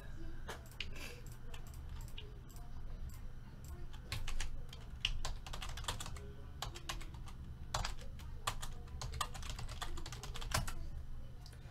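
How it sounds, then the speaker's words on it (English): Rapid, uneven clicking of fingers typing on a computer keyboard, close and continuous, with no talking. "Let's just type in all of these hits really quick."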